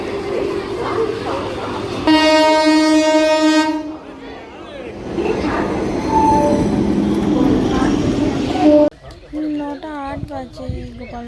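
A train horn blares loudly for a couple of seconds amid rumbling rail noise, with voices talking over the steady din.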